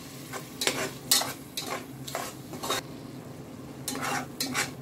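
Ground onion paste sautés in a pan for a roadside-style salna, with steady soft sizzling under a series of scraping stirs from a utensil against the pan, close and fairly quiet.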